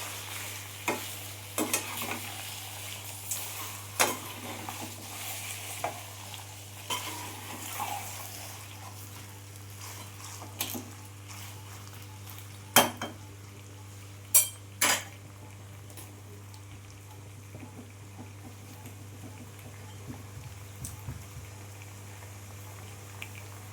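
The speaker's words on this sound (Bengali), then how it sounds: "এবার মটনটা আমি ভালো করে একবার নাড়াচাড়া করে নেব।" Mutton pieces frying in a pan for korma, stirred with a spoon: a low steady sizzle underneath, broken by scattered scrapes and sharp metallic clinks of utensil against pan, close and fairly quiet, no talking.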